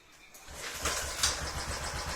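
Royal Enfield motorcycle, started by kick with an external battery after its dead battery, catching and settling into a steady low engine rumble with a brief rev, close and continuous.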